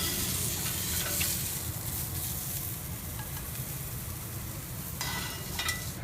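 Asparagus sizzles on a hot grill pan in a continuous, even crackle and hiss, with a few faint clinks, heard alone and fairly close.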